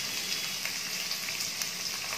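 Crushed garlic sizzles in hot oil in a pan, a steady close hiss with faint crackling pops throughout.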